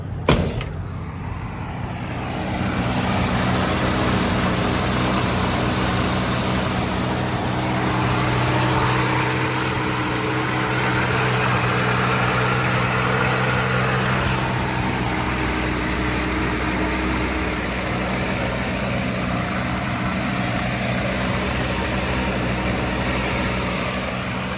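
A 1965 Ford Ranchero engine runs steadily at idle, a constant close rumble with a faint whine, holding even for the whole stretch with no voices.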